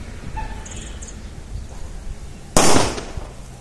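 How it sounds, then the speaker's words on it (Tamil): A single loud Diwali firecracker bursts with a sharp bang and brief crackling tail, after a few quiet seconds of faint background chirps. "எப்படி வெடிக்குதுன்னு பாருங்க. எவ்வளவு பெரிய வேட்டு."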